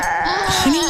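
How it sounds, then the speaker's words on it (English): Goats bleat on a residential lawn in a radio advertisement, a short nasal cry rising in pitch at the end, close and clear over a faint background. "It sounds like goats."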